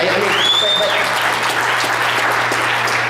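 A panel presentation audience claps in a loud, even burst of applause that carries through the whole moment, with a voice faintly heard over the clapping.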